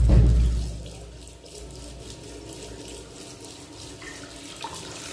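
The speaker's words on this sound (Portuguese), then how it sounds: "Brincar com a água da torneira." A tap runs with steady water, loudest at the start with a splashing onset, then settling into a softer, continuous flow in an indoor sink.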